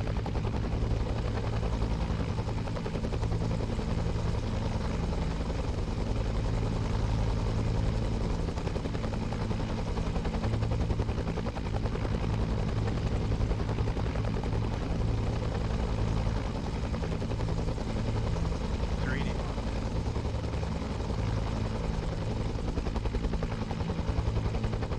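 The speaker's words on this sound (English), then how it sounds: "I can't hear you because of the helicopter." A military helicopter close by with US Marine Corps troops keeps up a loud, continuous rotor and engine roar throughout as it prepares to lift off, drowning out everything else.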